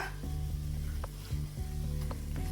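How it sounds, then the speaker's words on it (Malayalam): Boneless chicken cubes sizzle steadily in a hot pan of spices and garam masala, a continuous close frying hiss with a few soft stirring knocks and no voices. "ഇനി ഇതിലേക്ക് ചിക്കൻ കട്ട് ചെയ്ത് ഇട്ട് കൊടുക്കുക."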